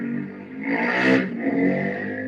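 A motorcycle engine revs up loudly as it passes close by, rising to a peak near the middle and then fading slightly, with a steady rumble throughout.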